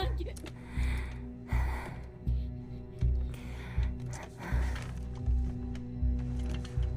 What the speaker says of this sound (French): cette vieille respiration dans nos oreilles